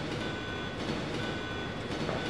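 Train rolling on rails in the video game Resident Evil 2, a steady dense rumble with faint clacking and a thin high whine, continuous and without talk.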